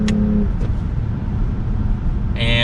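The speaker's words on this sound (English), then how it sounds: "And the exhaust is very quiet." A 2022 Lexus ES 350 F Sport on the move, its exhaust barely audible beneath a steady low road and cabin rumble from inside the car, with a brief brighter chirp at the end.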